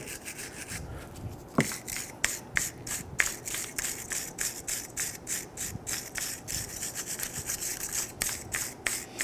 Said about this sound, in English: I'm going to use my wire brush and I'm going to clean where the pads go.